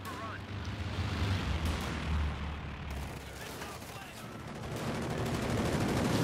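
Company of Heroes 2 battle audio with a captured MG-42 machine gun firing, rapid bursts and artillery-like blasts blended into a dense, continuous wash of combat noise under commentary.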